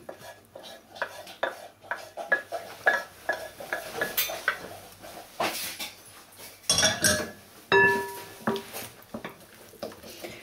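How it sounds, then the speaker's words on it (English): Hot cream is stirred into chocolate in a bowl until it melts, giving close, repeated scraping and clinking of a utensil against the bowl at a steady pace, with a few louder knocks, and no talking. "put it straight into the chocolate and stir until all the chocolate's melted"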